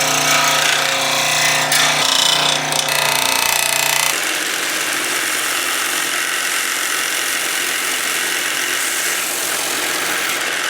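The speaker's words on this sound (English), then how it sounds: "I wonder if this scroll saw will be able to cut this plastic" A loud, rapid mechanical buzz of a scroll saw chattering through plastic, then the cutting stops and the motor keeps whirring at a steady drone.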